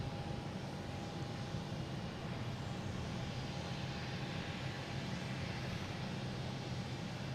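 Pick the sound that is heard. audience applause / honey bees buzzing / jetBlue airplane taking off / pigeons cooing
jetBlue airplane taking off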